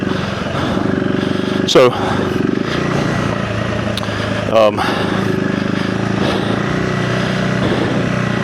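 A 2025 KTM 390 Enduro R with a DNA filter rides off road, its single-cylinder engine droning steadily and close with two brief louder bursts, while a rider talks over it.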